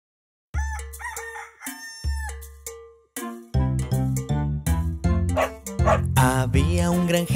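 A cartoon dog barks along with a bright children's song about a farmer's dog named Bingo: repeated yips and woofs punctuate the music, with a rooster-like crow near the start.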